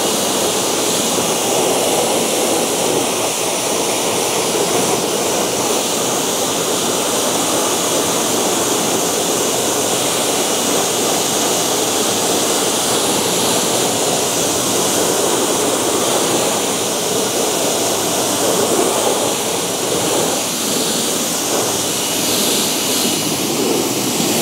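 Pressure-washer water rinse spraying neglected car wheels during detailing, a loud, steady, broadband hiss of spray running continuously without pause or talk.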